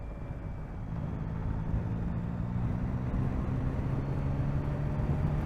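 A 2024 Yamaha MT-09 motorcycle's engine drones steadily while riding in higher gears at low speed, a low continuous hum under heavy wind rumble.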